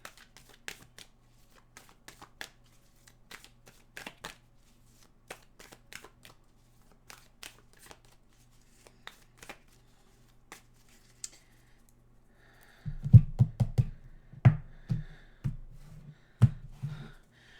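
Tarot cards being shuffled by hand, a series of soft quick riffles and flicks at close range, quiet at first and then louder, denser bursts toward the end, with no talking.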